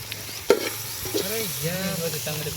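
Onion, chillies, tomato and curry leaves fry in a pan with coriander powder, a steady close sizzle with occasional stirring scrapes while someone talks briefly.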